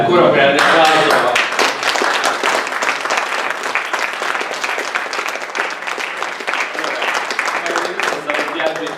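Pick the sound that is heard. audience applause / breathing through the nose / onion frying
audience applause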